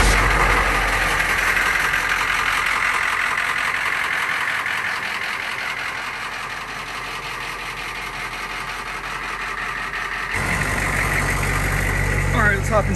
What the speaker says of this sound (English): So here's the quick startup procedure for a Humvee.